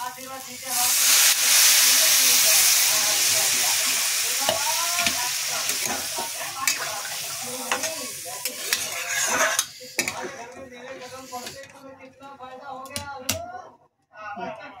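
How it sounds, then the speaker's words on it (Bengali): Water poured into a hot frying pan where katla fish head pieces have been lightly fried for a Bengali muri ghonto, setting off a loud hissing sizzle that slowly dies down into stirring and clinking while a voice talks over it. "এখন জল ঢেলে দেবো"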